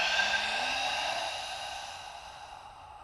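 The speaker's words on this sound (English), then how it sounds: "And then exhale." A slow, deep breath out during a stretching exercise: one close, soft airy exhale that fades gradually over a few seconds, with no other voices.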